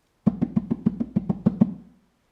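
A quick drum pattern of about ten evenly spaced hits, each with a low thump and sharp attack, played alone and fading out at the end.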